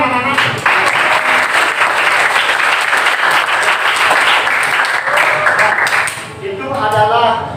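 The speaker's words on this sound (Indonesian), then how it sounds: "tepuk tangan anak-anak" A classroom of children claps together in a dense burst of applause that keeps up for several seconds before tapering off, and voices start talking near the end.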